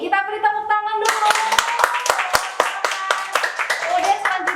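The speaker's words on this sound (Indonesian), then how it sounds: "Kita beri tepuk tangan dulu." An audience claps for a prize winner at an event, a sudden burst of close, crisp hand claps that continues steadily after a sustained tone fades, with talk mixed in.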